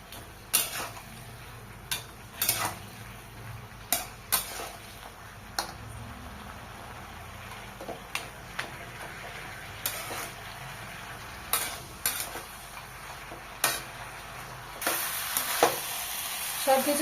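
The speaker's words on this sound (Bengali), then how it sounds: "সব কিছু সুন্দরভাবে কষিয়ে নেব।" Spices, ground mustard and fried fish head stir-fried in a pan for a Bengali bottle gourd leaf dish, a low steady sizzle broken by regular clinks and scrapes of a spatula against the pan.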